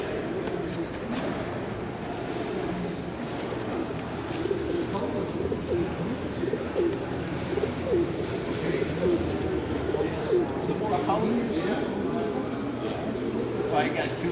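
Show pigeons coo at a young bird show indoors, soft repeated coos and murmurs scattered through a busy hall hum while someone talks over them.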